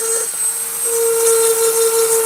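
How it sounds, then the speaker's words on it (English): A rotary tool fitted with a diamond flame burr grinds at eyeball details on a carving, giving a loud, steady high-pitched whine that dips briefly early on, then holds constant. "I can use this diamond flame burr and clean up these eyeballs a little more."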